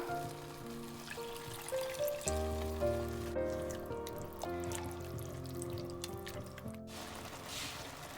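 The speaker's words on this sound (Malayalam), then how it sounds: "മസാലകളും നന്നായി ഒന്ന് വഴറ്റിയ ശേഷം നമുക്ക് പുളിവെള്ളം ചേർക്കാം." Tamarind water pours steadily into a pan of sautéed masala, a soft continuous trickle beneath louder sustained background music.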